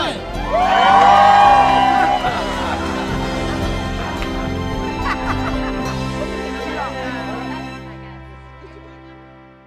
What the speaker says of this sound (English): cheer louder if you're having